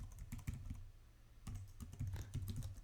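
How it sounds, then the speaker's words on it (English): A computer keyboard typed in two bursts of quick, close clicking separated by a short pause, with no talk over it. "You just type in your information, and I will use our help email."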